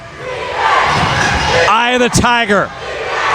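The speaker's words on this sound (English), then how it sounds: "You can hear the home crowd coming in" Home crowd cheering and shouting at a varsity girls basketball game in the final minute, a loud roar building under a commentator's voice, with a song playing over the gym speakers.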